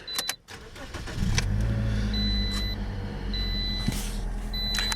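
A 2010 Toyota Corolla LE starting: a few faint clicks, then the engine cranks and catches about a second in and settles into a steady idle, with thin electronic chimes repeating over it.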